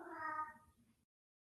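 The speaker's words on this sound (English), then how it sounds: "We're hearing a cat meowing in the room." A cat meows in a room during a veterinary board meeting, a single drawn-out, fairly clear meow lasting about a second, heard alone with nobody speaking.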